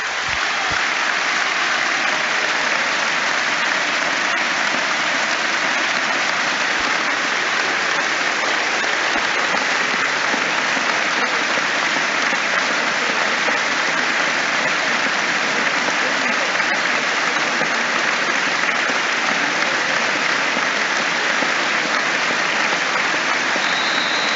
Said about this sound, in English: applause is breaking out all around us at Old Trafford as we take a moment to remember John Motson